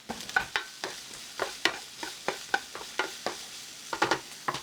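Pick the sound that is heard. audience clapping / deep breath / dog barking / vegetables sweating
vegetables sweating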